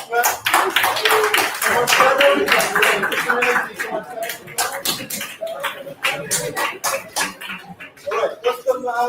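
An audience at a London demo night claps together in a sustained burst of many overlapping hand claps, loud and close, fading into more scattered claps while someone talks over it.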